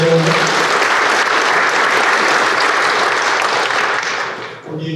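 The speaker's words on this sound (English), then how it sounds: "We want to just give a round of applause as well." Sustained audience applause at a small business awards breakfast, dense clapping from a room full of people holding steady for several seconds before tapering off at the end.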